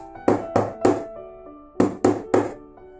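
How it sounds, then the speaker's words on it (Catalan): Knocking on a house door comes in two sets of three firm, evenly spaced knocks separated by a pause, close and clear, with a soft tonal hum underneath and no voices. "tornà a traquejar a la porta de la casa dels cabritets"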